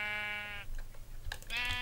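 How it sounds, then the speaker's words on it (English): Sheep in the Minecraft video game bleat twice, a long loud harmonic call followed after a short pause by a second one, with low game background hum underneath. "the sheep's moving this time"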